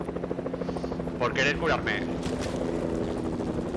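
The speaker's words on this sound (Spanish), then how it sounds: "¿El helicóptero eres tú, Icar?" Helicopter in the Fortnite battle royale game, a steady rotor drone with low harmonic throbbing running throughout, moderately loud under a player's voice chat.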